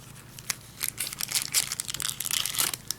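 Cellophane wrapping on a Pelikan M1000 fountain pen with a medium nib crinkles close up, a dense run of crackling bursts and rustles lasting a few seconds, with no voice over it.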